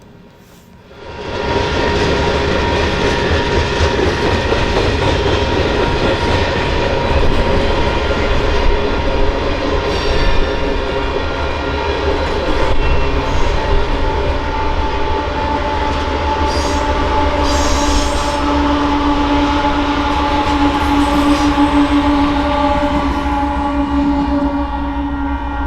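BNSF freight train passing at Pine Cliff on the Moffat Tunnel route in the Colorado mountains: a steady, loud rumble of rolling cars with rhythmic wheel clatter and occasional high squeals, sustained for the whole stretch with no talking.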